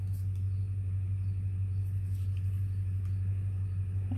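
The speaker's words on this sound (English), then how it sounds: "I hear a truck." A truck passing by outside, heard indoors as a steady low rumble that holds throughout, with faint scattered clicks nearby and no talking.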